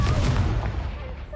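A Confringo fire spell blast in Hogwarts Legacy: a heavy, booming burst with a rumbling low-end decay, short and loud, with faint voice activity behind it.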